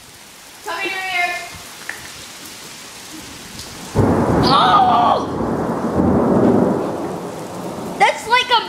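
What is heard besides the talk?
thunder during a thunderstorm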